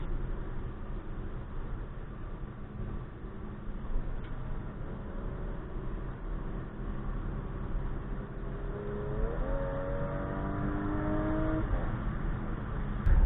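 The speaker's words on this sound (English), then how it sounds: "Oh, the downshifts are sick." Audi SQ5 engine under hard acceleration heard from inside the cabin, a steady drone with road noise that rises sharply in pitch near the end as it revs through a shift, with no talking.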